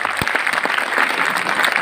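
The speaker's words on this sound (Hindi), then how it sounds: "सभी दर्शक एक बार जोरदार तालियां बजाएं" A short burst of dense crowd clapping at a school's annual sports festival in a stadium, steady and moderately loud with a sharp single clap standing out near the start.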